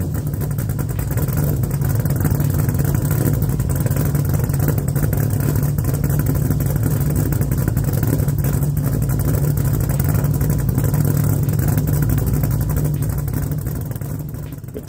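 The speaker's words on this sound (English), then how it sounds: "With the exhaust finished up and completely on the car, it was time to fire it up and see how it sounded." A 1969 Camaro with an LS3 swap and a new stainless dual exhaust idles steadily after starting, giving off a deep, constant, close rumble for the whole stretch with no talking.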